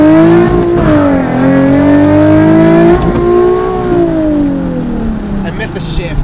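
A Nissan 370Z Nismo pulls hard in first gear from a roll, its engine roaring loud and close as the revs climb, dip at a shift, then climb again before easing off.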